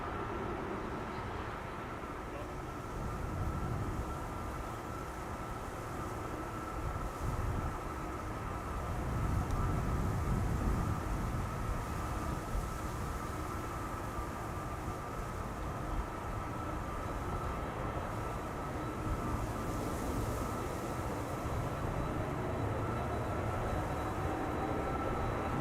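A Qatar Cargo aircraft lines up on the runway at Amsterdam Schiphol, its engines giving a steady, distant broadband roar with a sustained whine that swells slightly midway and holds.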